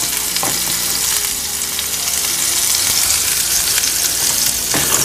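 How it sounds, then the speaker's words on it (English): Oil hissing and sizzling in a very hot pan, a loud steady frying roar from start to finish, with a few faint scrapes and knocks of stirring underneath and no talking. "the pan's pretty hot. So you're going to want to stir it up."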